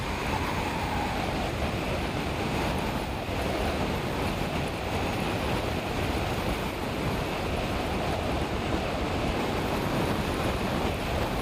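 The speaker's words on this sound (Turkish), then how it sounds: "Muhteşem bir rüzgar." Steady, continuous wind rush buffeting the microphone while cycling downhill, a dense roar that stays level throughout without any talking.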